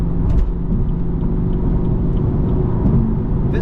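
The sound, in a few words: BMW F82 M4 engine running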